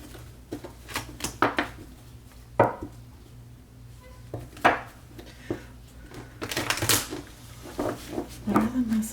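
Tarot cards being shuffled, a string of short papery riffles and slaps in irregular bursts, close and fairly loud, with some low background noise between them.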